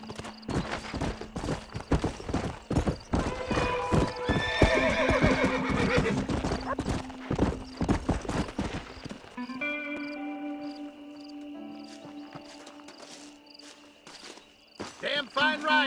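Horse hooves clip-clopping at speed in the western video game Red Dead Redemption, rapid rhythmic beats with a whinny and crickets, then slowing under spoken voices and music.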